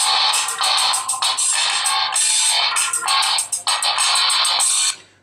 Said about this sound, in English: Let me play an audio track on both the phones one by one and show you how well they sound.